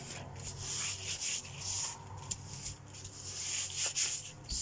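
A decoupage journal cover is rubbed by hand to remove excess material, giving close, soft, continuous scuffing strokes in an irregular back-and-forth rhythm with no talking.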